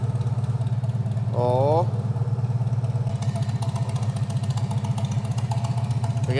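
A Farmall M tractor engine runs close by at a loud, steady idle with an even chugging pulse. A brief voice exclamation cuts in early.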